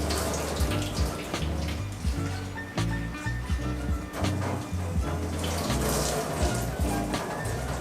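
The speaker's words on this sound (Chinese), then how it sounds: "我们刨完丝之后啊，我们就拿去稍微冲洗一下" Shredded potatoes rinsed under a running kitchen tap, a steady rush of water with clattering and rustling as the strands are handled, close by and continuous throughout.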